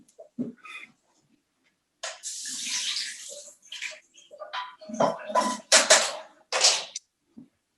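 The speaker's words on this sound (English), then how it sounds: "And then I simply add water." Tap water runs into a pot of quinoa in a sink, heard as a close, splashing stream that comes in several bursts of varying strength with brief pauses between them and no talking.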